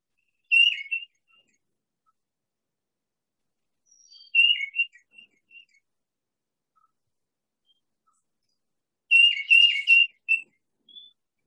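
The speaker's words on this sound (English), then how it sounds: "Tufted titmouse." A tufted titmouse calls three times in clear whistled phrases spaced several seconds apart. The bird sounds fairly close, and the last phrase is a fuller burst of notes, set against near silence.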